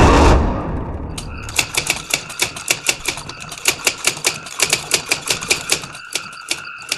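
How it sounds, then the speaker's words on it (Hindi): A typewriter being typed on, with a rapid irregular run of sharp mechanical key strikes close up, some pauses between bursts, following a short noisy swell at the start. "टाइपराइटर की बटन दबने की आवाज सुनाई दे रही थी"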